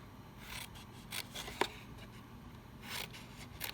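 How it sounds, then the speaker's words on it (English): Scissors cut through cardstock for a half-sheet treat box, a series of soft crisp snips and scraping slides close by, with one sharper click partway through. "So let's do that with the scissors."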